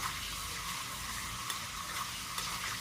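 Chicken pieces sizzle in hot oil in a pan before being cooked in a spicy Bengali curry, a dense, continuous frying hiss with a few faint clicks of stirring.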